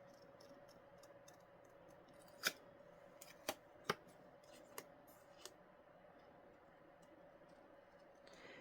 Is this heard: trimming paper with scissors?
yes